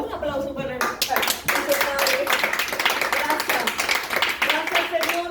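A church congregation breaks into applause, a dense run of rapid hand claps starting abruptly after a brief spoken moment and continuing steadily, with a voice speaking over the clapping.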